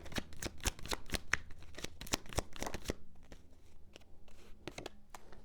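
Tarot cards are shuffled by hand in a quick run of crisp riffling flicks and slaps, close and fairly loud, then slow to softer scattered handling sounds.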